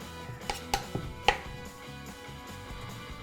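A knife slices a cucumber into rings on a board for tuna bagels, a few sharp separate taps in irregular rhythm, close and clear.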